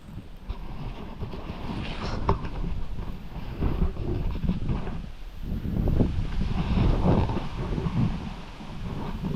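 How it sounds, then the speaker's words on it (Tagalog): Strong wind gusting outdoors during a jackfruit harvest, a loud rumbling roar that swells and fades in waves across the whole stretch, with no talk. "Grabe, hangin na ba?"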